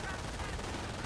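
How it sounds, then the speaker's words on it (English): Dense, continuous machine gun fire from the Company of Heroes battle game, a steady rattling wall of gunfire holding at one level throughout with no clear gaps between bursts. "He's going to run into this machine gun."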